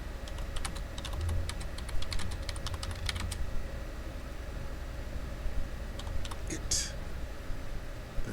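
Steady, rapid clicking of keys on a computer keyboard during a PowerPoint typing exercise, with bursts of quick keystrokes over a constant low background hum and a faint voice now and then.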